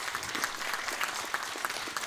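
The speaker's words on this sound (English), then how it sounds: "Give them a big round of applause." Audience at a gurukula event clapping in a brief burst of applause, a dense patter of many hands close by with no talk over it.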